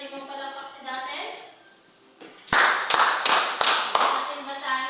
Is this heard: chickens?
no